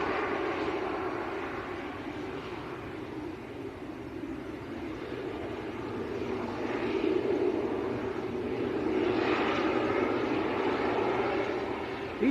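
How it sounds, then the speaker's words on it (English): A Ryanair airliner arriving at Manchester Airport, its engine roar a steady broadband rumble that swells gradually over the second half as the jet draws nearer, heard alone without voices. "Next arrival will be a Ryanair"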